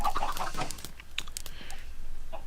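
Chickens clucking in a video game chicken breeding area, several short close clucks and chatter, no talk.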